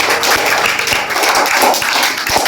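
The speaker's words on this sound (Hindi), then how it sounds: "इनके लिए तालियां।" Students in a maths classroom clap for a classmate who answered correctly, a loud, brisk burst of many hands up close, steady for a couple of seconds.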